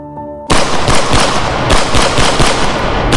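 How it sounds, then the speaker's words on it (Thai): Dense, loud gunfire bursts out after a brief quiet moment, rapid AK rifle rounds mixed with sharper pistol shots in a continuous, overlapping barrage. "เสียงผสมผสานของปืนทั้งอาก้าและปืนพก"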